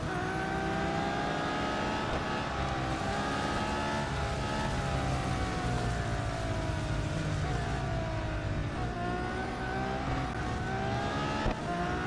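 A race car engine in the Real Racing 3 mobile game revs and climbs through the gears, its whining harmonic pitch rising and falling as it accelerates steadily and alone.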